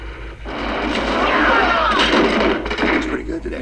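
Gunfire from a movie fight scene in Big Trouble in Little China rattles as a dense, loud burst that swells and then fades, under commentators talking.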